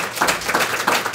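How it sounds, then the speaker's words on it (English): A short burst of audience applause for students at a writing awards ceremony, steady clapping from a crowd over just over a second. "Can we just do one more round of applause for all the students?"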